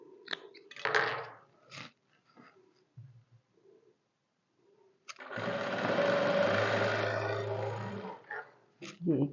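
A sewing machine stitching trousers runs in one steady, droning burst of a few seconds after short bits of handling and a voice, then stops.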